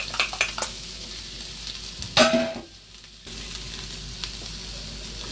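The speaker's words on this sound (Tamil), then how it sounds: "வெங்காயம் கொஞ்சம் வெட்டி வச்சுருக்கோம் தாளிக்கிறதுக்கு." Chopped onions and mustard seeds frying in hot oil, a steady close sizzle with crackling pops, a loud burst as ingredients hit the pan, then a brief hush before the sizzle resumes, for a Jaffna-style pumpkin curry.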